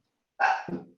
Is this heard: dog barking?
yes